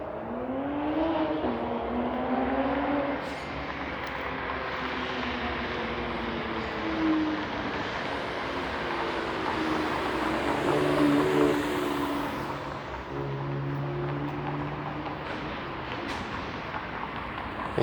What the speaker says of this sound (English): You hear sounds like that, you expect to see a supercar